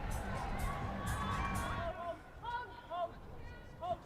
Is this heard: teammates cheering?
yes